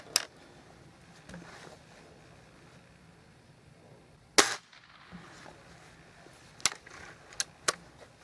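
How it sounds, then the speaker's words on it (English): Several sharp, snappy air rifle shots ring out with gaps between them, one especially loud supersonic crack midway, over quiet outdoor background hiss. "Hear that crack? Yeah, they're definitely supersonic."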